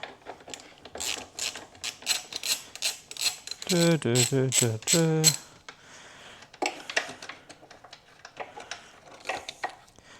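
A ratchet wrench clicks in short, uneven bursts while loosening a 12 mm bolt on an old motorcycle, close up, with one longer buzzing stretch of ratcheting in the middle.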